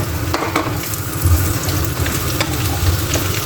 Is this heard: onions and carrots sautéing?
yes